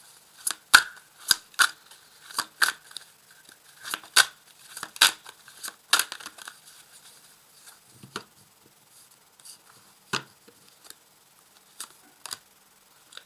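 Tarot cards being shuffled and drawn, a run of crisp, close snaps and flicks of card stock that come in quick groups, then thin out into a few scattered, softer slides.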